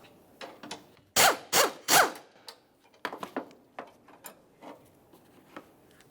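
Metallic clicks and ratcheting of a wrench backing out 10mm bolts and lifting away a hold-down rod under the hood of a 2000-2006 Chevrolet Tahoe, a few louder scrapes then scattered short taps, close by with no talking.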